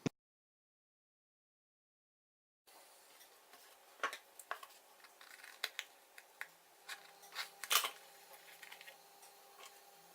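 After a stretch of silence, a series of sharp, close snips and rustles from scissors cutting a paper letter W for scrapbooking, irregular and fairly quiet.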